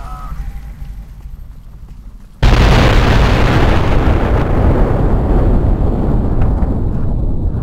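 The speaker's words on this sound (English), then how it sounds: "That was the explosion" Explosion in the game Fallout: New California: after quiet talk, a sudden loud blast erupts and gives way to a sustained, roaring crackle and rumble that fills the rest of the clip.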